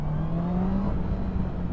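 Honda CB650R four-cylinder motorcycle engine held at about 4000 rpm, a steady close drone with a smooth rising pitch that levels off, loud and alone without talk.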